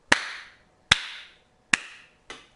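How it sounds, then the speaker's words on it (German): Four sharp, separate hand claps ring out one after another, each one loud and close with a short decaying tail, spaced unevenly and heard alone. "Applaus."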